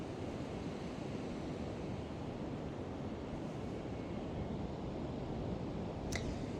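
Waves wash steadily onto a beach, a continuous broadband surf roar mixed with wind noise, fairly distant and even, with one brief high swish near the end.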